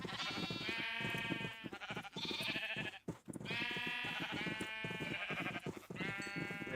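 Goats bleat repeatedly in a series of loud, wavering cries that overlap and follow one another with only brief gaps, close by and with no talking.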